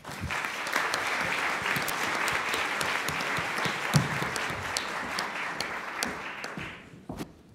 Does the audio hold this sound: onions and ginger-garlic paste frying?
no